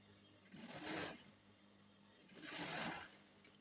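Sewing machine topstitching close to the edge of a child's neckline, two short quiet bursts of stitching separated by a pause, fairly faint and without talk.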